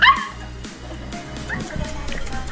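Small puppies gathered at a doorway in the Philippines give high yips and soft whimpering whines, close by, with several quick bursts at the start, then steady low whimpers against a constant hum, while someone speaks softly over them.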